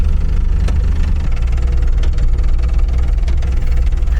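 A loud off-road vehicle engine with rod knock idles with a steady low rumble and a faint, rapid knocking running through it the whole time.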